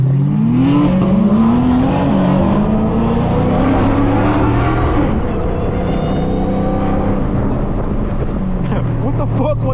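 A Dodge Hellcat accelerates hard in a 120 roll race through traffic, its engine note climbing loud and close with rising pitch, alongside road noise and people talking over it.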